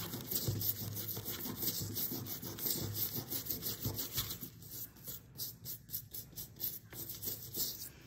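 A brush scrubs a dinosaur fossil dig kit with a bit of water, giving close, gritty, rhythmic rubbing strokes over a steady faint hiss and no talking.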